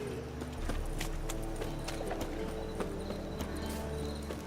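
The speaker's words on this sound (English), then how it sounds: "¿Me puedo subir en el caballo este?" Horse hooves clip-clopping in the video game The Witcher 3: Wild Hunt, with a steady run of quick hoof strikes close up over a faint background hum.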